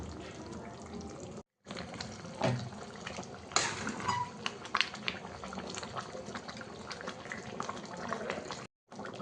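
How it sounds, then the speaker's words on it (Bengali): Water from a small bowl is poured into a simmering chicken curry in a pot, giving a soft continuous splashing and sizzling wash with a few louder splashes near the middle, fairly quiet and without talking. "এবার আমি এই ছোটো বাটি এক বাটি জলটা দিয়ে দেব"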